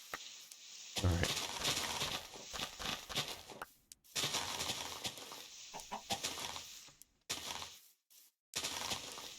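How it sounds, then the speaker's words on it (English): A chicken clucks in Minecraft, with short cackling calls over busy, dense game sounds of footsteps and breaking blocks. "I don't mind that we got a chicken following us"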